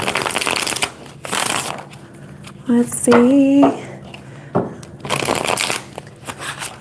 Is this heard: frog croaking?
no